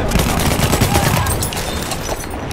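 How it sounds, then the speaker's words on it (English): Torpedoes fired from a boat in a video game, heard as a dense burst of loud rapid bangs and rumbling blasts that eases off slightly toward the end. "I'm shooting torpedoes, and I don't know why."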